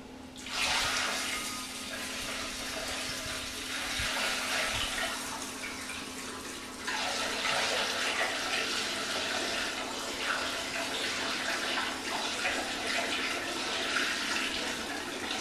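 Pumpkin ale wort from a mini mash homebrew is poured into a primary fermenter, a steady gushing liquid pour running the whole time, briefly easing then resuming strongly, with no talking.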